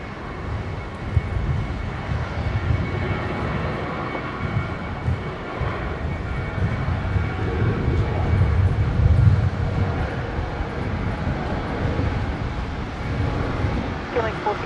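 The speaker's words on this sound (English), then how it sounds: "Here we go, Qantas Link 1907 heading down to Canberra. 19 left, rolling." A Qantas Link airliner rolls for takeoff on runway 19 left at Brisbane airport, a steady low engine roar building slightly from a distance, with people talking over it.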